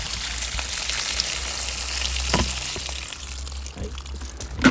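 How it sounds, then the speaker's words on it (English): Rinse water poured out of a container after swirling residue off cleaned items, a steady splashing and gurgling stream lasting several seconds with a small clatter at the end. "I'm going to quickly simply pour out."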